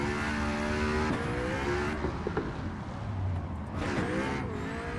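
A drifting car in a racing game, played on a CAMMUS wheel, its engine revving and holding high pitch, dipping and climbing again as tires hiss, close and continuous with no voices.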